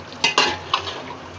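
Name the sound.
stirring beef biryani with fried potatoes and ketchup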